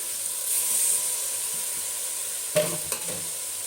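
Mint frying with tomatoes in a pan for mushroom biryani, giving a steady close sizzle and hiss throughout, with a couple of brief stirring clatters near the end.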